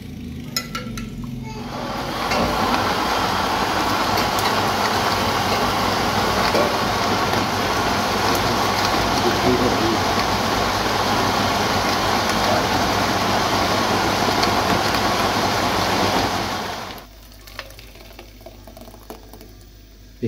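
Blender grinding softened boiled tamarind, plums and apricots into chutney, a steady dense whir running loud and unbroken for about fifteen seconds before cutting off, with quiet kitchen sounds around it.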